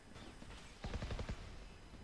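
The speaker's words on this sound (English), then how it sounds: "We hear some gunfire being exchanged on A" A short burst of rapid gunfire in the video game Valorant, several quick shots in a row, muffled and somewhat distant over a steady background hum.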